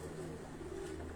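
A pigeon coos softly and steadily over a low hum, faint and unbroken throughout.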